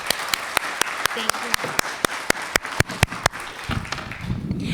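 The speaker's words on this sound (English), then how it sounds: "Let's give one more round of applause" Applause from an audience at a local community talk, with sharp, regular claps close to the microphone over softer crowd clapping, fading as a voice begins speaking near the end.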